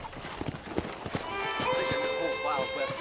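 Horse hooves clip-clop in an irregular run of hits through the first half, followed by a sustained tonal call like a whinny, with game dialogue voices over it on a ranch in the Red Dead Redemption video game.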